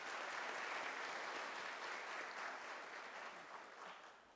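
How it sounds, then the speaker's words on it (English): Audience at a University of South Africa autumn graduation ceremony clapping: dense, steady applause from a large crowd at moderate distance, fading slightly toward the end. "can you join me in an applause to Dr. Gomba for the Chancellor's address?"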